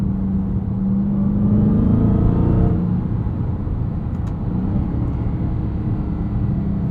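A 2023 Dodge Charger Hellcat Widebody Jailbreak V8 pulls hard under acceleration, a loud, steady, deep rumble heard from inside the car with no voices.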